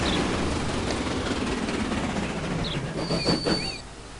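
A train rolls steadily through the video game Transport Fever, a continuous loud rumble of wagons on rails with faint high squeals near the end, no voices.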